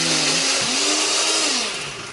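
A kitchen blender grinds a spice paste of shallots and added water, a loud steady whir running continuously with a shifting motor pitch and no talking.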